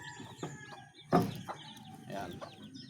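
A mother hen clucks near a chick coop with soft, repeated clucks and one louder burst partway through. The hen sounds close, over a quiet farmyard background.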